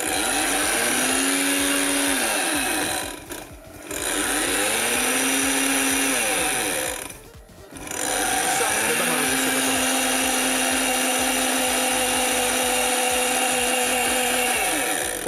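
A kitchen blender grinds in three loud, sustained runs of whirring motor noise with brief pauses between them, demonstrated on a Russian TV shopping program, with a rising and falling pitch as it spins up.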